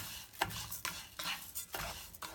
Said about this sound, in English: then we're gonna start frying our rice